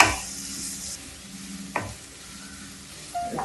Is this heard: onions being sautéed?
yes